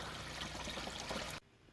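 Water trickles steadily over a small garden pond waterfall with algae build-up, a soft continuous splashing that cuts off abruptly near the end.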